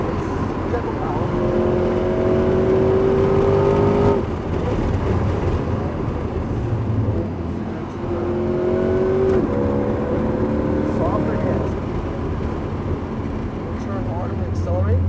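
A Corvette C8 Z51 accelerating on the Homestead Miami Speedway track, heard from inside as a sustained engine drone with rising gear sweeps, a shift around four seconds and another pull, while people talk over it.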